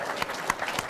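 Audience at a 54 Hour Film Fest award show applauding and cheering, a short burst of dense clapping with a few sharper claps standing out, close and steady.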